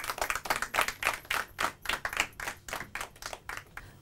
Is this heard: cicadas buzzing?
no